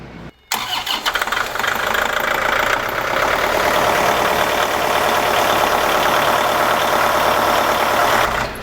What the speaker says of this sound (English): now we're going to fire the machine back up and run the cylinder back